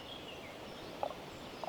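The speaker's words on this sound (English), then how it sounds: "Just the sound of birds." Birds call in quiet Portuguese countryside, two brief chirps rising above a soft, steady background hiss with no traffic or voices.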